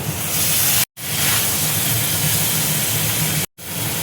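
A little water poured into a hot pan of Kashmiri chili powder and spices for prawn chorchori sets off a loud, continuous steam hiss close by, broken by two abrupt momentary gaps.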